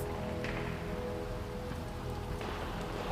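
Steady rain falls in the VR game Batman: Arkham Shadow, a constant hiss of drops over a low ambient hum, with no talking.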